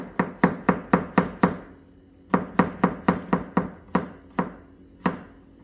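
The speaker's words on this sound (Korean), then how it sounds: "반달 어슷 썰기도 있는데, 반달 상태에서 이대로 어슷 써는 거야." A kitchen knife cuts a vegetable diagonally into half-moon slices on a board, crisp close chops in two quick runs of about six strokes, then slower single cuts, with no talking.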